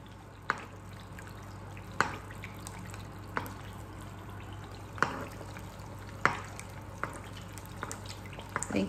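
A fried egg cooks in sunflower oil in a pan, a faint, steady low sizzle broken by sharp little pops and spits every second or so, close by with no voices.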